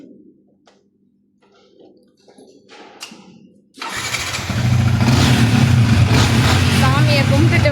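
New motorbike starting up: after quiet clicks and small handling noises, the engine catches abruptly and settles into a loud, steady running rumble up close. People talk faintly before the start.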